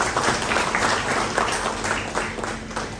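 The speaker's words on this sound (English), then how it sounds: "let's give a big round of applause to our Dr. Sir" An audience at a felicitation ceremony for a chartered accountant breaks into steady applause, a dense, even wash of many hands clapping continuously at moderate volume throughout.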